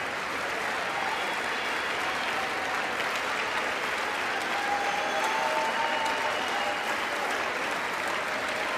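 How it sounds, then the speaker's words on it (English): Lawmakers in a large chamber clap during a State of the Union address, a dense, even roar of applause that holds steady throughout, with faint tonal murmurs beneath. "See, they're all clapping for this"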